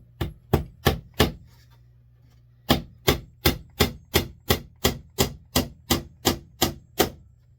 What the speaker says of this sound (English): I'm going to drive some brad nails down into here